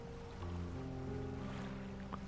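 A small boat in the video game Dredge moves across water, a steady low engine drone with soft washing water noise, continuous and moderately quiet.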